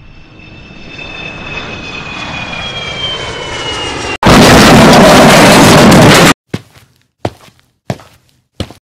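Animated airplane engine drones loudly with a falling whine during a rough landing, cut by a sudden burst of intense roaring noise, then a few sharp thumps and impacts at the end.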